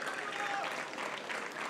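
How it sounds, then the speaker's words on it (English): Crowd applause for the Fnatic and Virtus.Pro esports teams at a CS:GO pro league event in Dubai, a brief steady wash of clapping heard fairly faintly, with a voice talking over it. "Please, guys, one more time, a round of applause for Fnatic"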